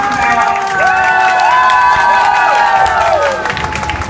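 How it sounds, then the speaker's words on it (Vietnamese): Audience bursting into loud applause and cheering, with excited shouts and whistle-like whoops riding over steady clapping, close and full, tapering off near the end. "Xin một tràng pháo tay nữa cho sự tham gia của nhóm"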